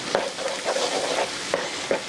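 Chicken teriyaki with cauliflower rice fries in a pan as a utensil stirs it, with repeated scraping strokes over a continuous sizzle, close and fairly loud.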